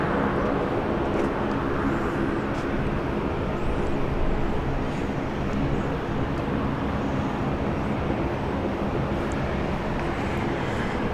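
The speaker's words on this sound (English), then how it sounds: "Runway 34 left, clear for takeoff" A jet airliner powers up for takeoff on runway 34 left at Sydney International Airport, a loud, steady engine roar sustained without a break, with no talking over it.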